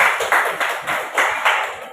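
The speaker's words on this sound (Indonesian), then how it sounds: "Ya, tepuk tangan untuk sini, Nak." Audience applause in a university biology class session, a steady stretch of close, dense hand clapping swelling in several waves, with no talking over it.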